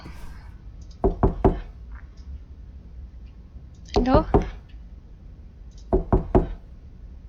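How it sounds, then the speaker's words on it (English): Knocking from the video game Bucket Detective comes as three groups of three sharp raps spaced a few seconds apart, crisp and fairly near, with a brief spoken word and a low background hum. "I think 3 knocks is enough"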